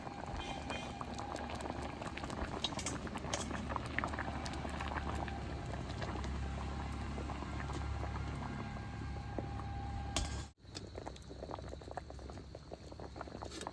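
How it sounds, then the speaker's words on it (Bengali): Cabbage and potatoes boil in a covered pot, a steady close bubbling and rolling simmer that runs without pause apart from a brief dip near the end. "আর আবার ঢাকা দিয়ে আলু দিয়ে সিদ্ধ করে নেবো।"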